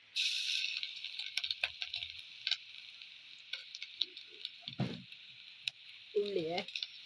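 Coconut roasts in a pan with a steady hiss while a spoon stirs and scrapes, giving scattered clicks and a few louder knocks.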